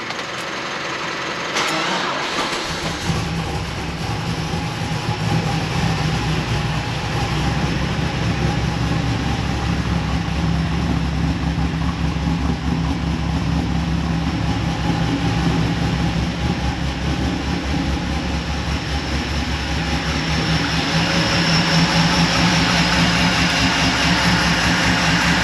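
A Holden VY Commodore ute with a flat battery cranks briefly, then the engine catches and settles into a steady, loud, rumbling idle that runs on continuously with no talk.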